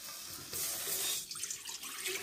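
Water runs into a pan for cooking kesari with semolina, a soft steady splashing flow that swells briefly then continues at a low level.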